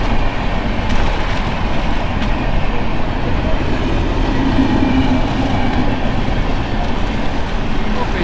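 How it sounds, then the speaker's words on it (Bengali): Near Ranchi, a train rumbles past close by as a loud, dense, continuous roll of wheel and carriage noise lasting several seconds, with road vehicles also present. "এই জায়গাটা দারুণ এলো, গাড়ি আর ট্রেন একসাথে।"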